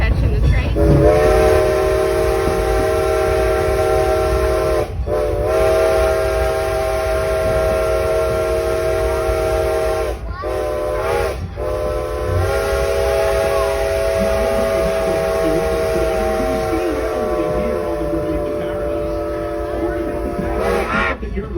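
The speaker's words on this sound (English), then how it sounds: "Catching the train." A Strasburg Railroad steam train blows its steam whistle in long, loud, sustained chord blasts separated by brief gaps, with rumbling train noise underneath and a few voices in the background.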